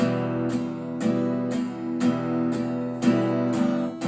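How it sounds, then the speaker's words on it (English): Acoleman acoustic guitar playing chords in steady all-down strums, eight even strokes about half a second apart, close and clear with ringing sustain between hits, no voices. "So it would be all down strums"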